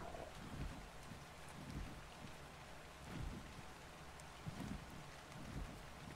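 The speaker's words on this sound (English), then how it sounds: "now the rain is just making it even worse" Rain falling in the video game ARK: Survival Evolved, a steady hiss of rainfall with rumbling low gusts and soft thunder-like swells, fairly faint and continuous with no voices.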